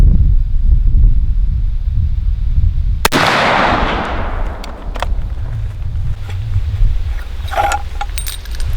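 A single loud 45-70 rifle shot fired from a shotgun insert, a sharp crack at an outdoor range that decays over several seconds into rumbling echo amid wind noise.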